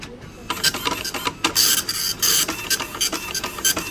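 An office printer runs in uneven bursts of whirring and rasping, its mechanism scraping and clicking as paper feeds through, fairly close with no talking.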